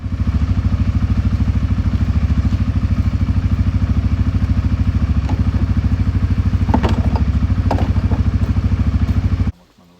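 An ATV engine runs steadily at a close, loud, even throb for nearly ten seconds, with faint clatters and knocks over it before it cuts off abruptly.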